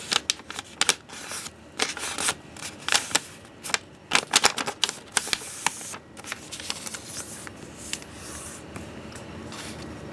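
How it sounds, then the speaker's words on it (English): A square sheet of origami paper is creased and folded in half by hand, giving a close, dry run of crisp crinkles, taps and rustles in irregular bursts with no voices. "I'm going to start by folding the square sheet of paper in half lengthwise like this."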